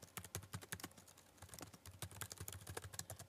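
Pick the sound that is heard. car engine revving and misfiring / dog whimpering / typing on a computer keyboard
typing on a computer keyboard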